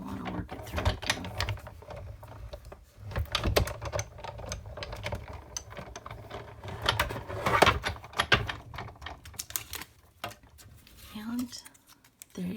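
A Tim Holtz Sizzix Sidekick die-cutting machine being cranked with a die and cutting mat, dense irregular clicking and ratcheting rattles close by, with a person talking intermittently over the mechanism.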